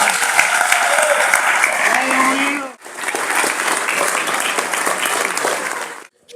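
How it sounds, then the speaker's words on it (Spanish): Strong, loud applause from an audience at a literary tribute in Castro honoring a writer, sustained clapping with a brief break before swelling again and cutting off abruptly. "Hagamos que este rugido aumeniano junto a ustedes retumbe con un fuerte aplauso para don Mario Contreras Vega"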